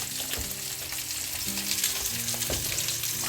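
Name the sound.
onions and pork belly frying in a pot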